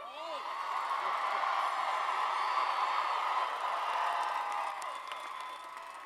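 A large graduating class at a university commencement cheers and whoops in a sustained, loud crowd roar lasting several seconds, heard from a distance in a big venue.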